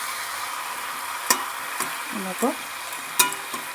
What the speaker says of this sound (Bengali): দেখো বন্ধুরা, আমার মাংসটা কষানো চলছে এখনও।